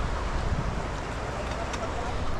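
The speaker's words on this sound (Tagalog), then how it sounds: "Tabi na tayo ng ilog." A river flows beside a picnic spot in Aurora, giving a steady, moderately loud wash of rushing water with a breezy, windy texture and no clear speech.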